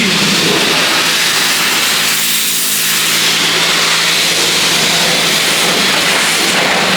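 A high-pressure washer sprays soap onto the wheels of a BMW M3, making a loud, steady, close hiss that runs without a break from start to end.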